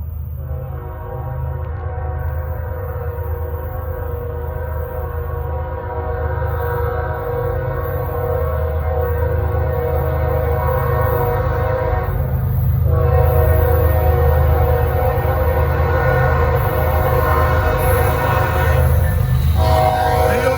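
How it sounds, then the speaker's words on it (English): A Norfolk Southern freight train rolls past close by with a heavy low rumble, its multi-tone horn blaring in long sustained blasts that swell louder midway and continue over the grinding of the passing cars. "let's try to catch that train"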